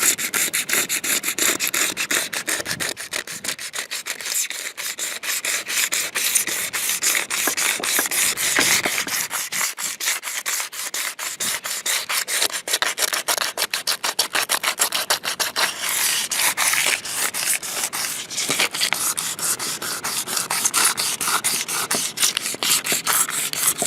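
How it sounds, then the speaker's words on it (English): A small piece of 80 grit sandpaper scrubs hard on a Ford F250 pickup truck cab, giving a loud, continuous scratchy rasp of rapid strokes that runs steadily for the full span. "got a little piece of sandpaper here, 80 grit"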